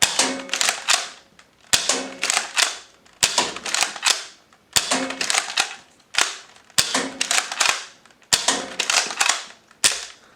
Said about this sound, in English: So here's the firing demo.